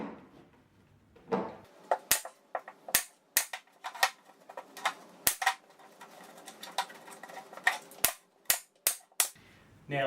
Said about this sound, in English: grab my staple gun